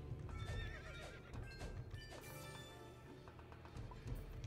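Horse hooves clip-clop steadily while a horse whinnies, with a busy, continuous background of clinks and tones from the Roblox game Horse Life.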